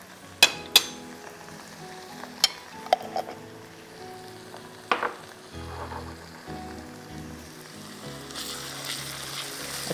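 Onions frying with ginger garlic paste in a pan make a soft sizzle, broken by several sharp clinks of a spoon against the metal, with faint background music and no talking.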